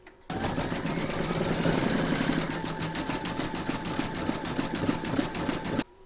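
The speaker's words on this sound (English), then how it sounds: "Load your matching bobbin and thread for the snowball area into your machine, and then you're going to stitch round number 9." A home embroidery machine stitches an in-the-hoop stacked snowman design, running steadily with a fast, even, mechanical whirring hum that starts abruptly and stops abruptly about six seconds later.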